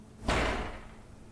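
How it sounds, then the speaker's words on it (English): A single heavy thud hits a door in a ghost-hunting show, a sharp, close impact that rings briefly and fades against a low, quiet background. "Later on night 2, however, Turner and Terry get a knock at the door"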